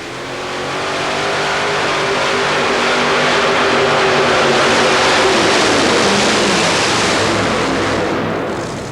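Powerful engines of a modified tractor pull tractor, three Arius engines of 1,800 horsepower each, roar loudly and continuously, swelling in intensity as they pass, with a dense rumbling drone and no talk.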